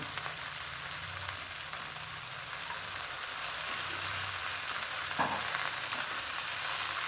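Vegetables with drumstick pieces for neem shukto fry in a pan with a steady, even sizzle and occasional soft stirring scrapes, close and continuous, with no talking.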